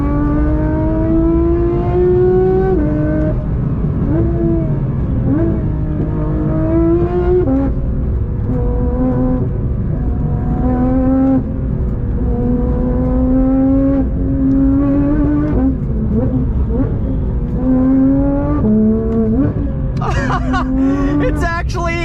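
Porsche 992 GT3 in track mode accelerating hard on a twisty road, its engine climbing loud and close through repeated high revs with quick upshifts, the tone falling and climbing again each time, while a person talks over it.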